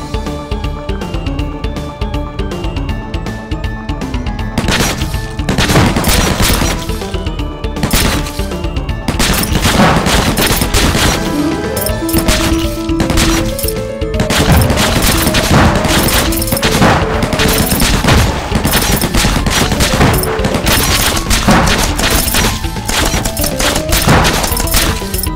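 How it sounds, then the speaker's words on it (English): Heavy machine gun fire in the zombie shooter game Undead Squad, a dense continuous barrage of loud rapid shots and booming impacts that runs throughout without a break, with no talk. "Heavy machine gun!"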